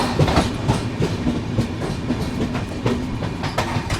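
Karnataka Sampark Kranti passenger train slowing on a loop line near Chandrapur, heard from on board as a steady rumble with repeated clickety-clack of wheels over rail joints, continuous throughout.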